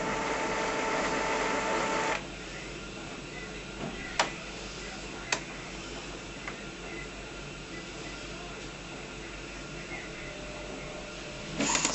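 An Epson BX300F printer fitted with a continuous ink supply system runs its ink charging cycle: a steady mechanical hum with a few sharp clicks, quieter after an early drop in level, rising briefly again at the end.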